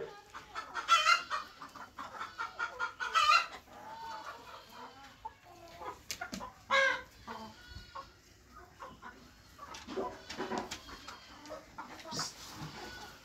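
Local desi egg-laying hens on a farm cluck repeatedly in irregular bursts, with a rooster crowing among them, fairly close and loud with no talk.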